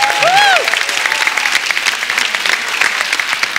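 Studio audience on a comedy talk show breaks into sustained, dense applause that stays steady throughout, with a few whoops near the start.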